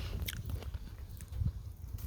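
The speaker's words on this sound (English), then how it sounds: "I've been munching on gooseberries when I come out" Close chewing and biting of fresh garden gooseberries, soft irregular crunches and mouth sounds repeating through the moment with no talk.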